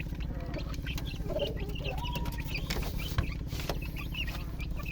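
Forty-day-old Boston cross hatch chicks cluck and peep continuously in a backyard flock, with a steady murmur of many birds close by and occasional louder calls.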